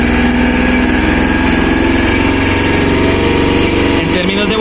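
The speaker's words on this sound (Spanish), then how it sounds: "Aceleremos un poquito más el motor y vamos a ajustarle nuevamente." A car engine is revved up during an inductive CKP crankshaft sensor test. A loud, close, steady engine drone holds throughout and shifts pitch briefly toward the end.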